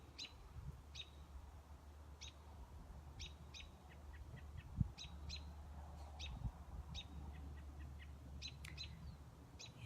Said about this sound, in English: the trees and the birds are singing together right now